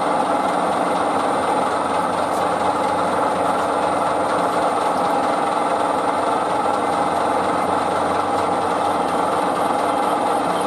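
A lathe takes a light skim cut on the threaded end of a BSA crankshaft using a WNMG insert, a steady continuous machine hum and whirr with a constant high whine, no talk.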